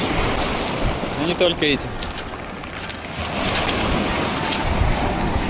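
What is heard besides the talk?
Black Sea waves on the beach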